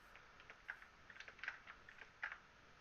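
Quiet clicking of a computer keyboard being typed on, an irregular patter of keystrokes with a few sharper taps, alone against a faint steady background hiss.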